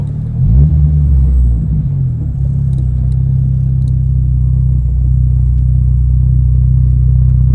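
A K20C4-engine-swapped Honda Civic Si drives along with a steady, loud low engine drone and rumble that briefly swells early on, then holds a constant hum, with no talking.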